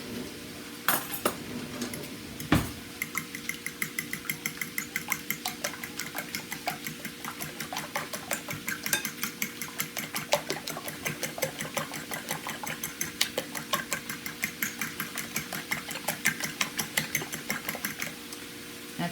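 Rice wine vinegar and soy sauce whisked briskly in a small container, a steady rapid ticking of the whisk against the sides running throughout, fairly close and alone, with a brief knock near the start.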